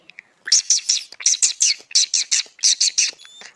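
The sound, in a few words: birds chirping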